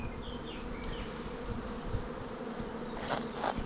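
Honey bees buzzing steadily in a populous, crowded beehive during spring honey season, a dense continuous drone close by with no talk.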